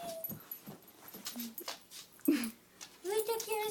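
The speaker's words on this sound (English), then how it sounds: "These puppies are so cute." Puppies whimpering and letting out small yips nearby, brief high whines scattered among people talking warmly to them over a quiet indoor background.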